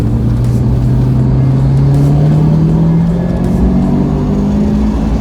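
Ford Puma car driving and accelerating, a loud steady engine drone with a rising pitch as it speeds up, heard from inside the car with road noise and no talking.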